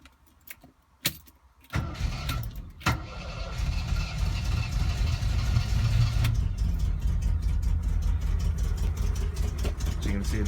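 A 1969 MGB GT is started after a jangle of keys, then settles into a steady, slightly uneven mid-pitched idle that runs close and loud for the rest of the clip.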